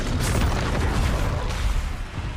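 A Confringo explosion spell in Hogwarts Legacy produces a continuous, loud, booming blast and rumble. It stays heavy and sustained throughout before easing slightly at the end.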